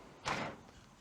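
A metal tool chest drawer in a home garage slides open with one short rolling rumble, close and moderately loud, then quiet.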